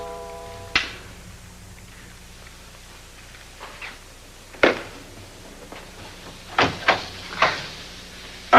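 A door in a house is handled: several sharp knocks and bumps arrive at irregular intervals, the louder ones clustered late, against a quiet room tone.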